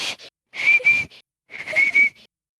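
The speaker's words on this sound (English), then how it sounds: "I stand there with my limp Doc Ock arms and my little whistle in my mouth." A small whistle blown in two sharp bursts, each with a couple of shrill, steady tones, sounding close and loud with a short gap between them.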